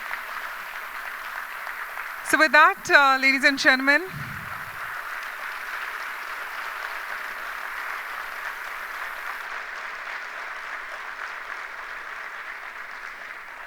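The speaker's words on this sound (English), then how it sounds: "let's warmly applaud him for all his achievements and all his contribution" Applause from a conference audience at a technology plenary session runs as a steady wash of clapping throughout, briefly overlaid near the start by someone speaking into a microphone.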